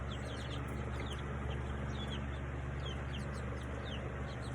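Young chicks sick with coccidiosis in their pen, a dense steady chorus of peeping and clucking from many birds, continuous and fairly loud with no talk.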